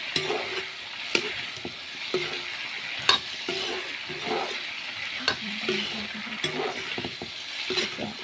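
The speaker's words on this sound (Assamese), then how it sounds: "এতিয়া মই ৰঙালাওখিনি মাছখিনিৰ লগত ভালদৰে ভাজি লৈছোঁ।" Dried fish and pumpkin fry in a pan, a steady sizzle with repeated scraping and stirring strokes of a spatula throughout.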